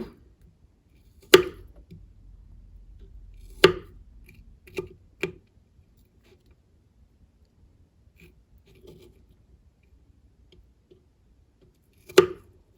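A knife cuts garlic into small slices on a board for guacamole, giving about six crisp, close chops spaced by irregular pauses in an otherwise quiet room.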